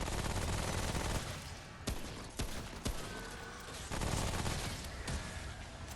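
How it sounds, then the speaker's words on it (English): Video game gunfire in Remnant: From the Ashes: a dense, loud, continuous burst of rapid shots with several sharp louder cracks along the way, all over a heavy layer of combat noise. "the gunplay in this game is fucking amazing"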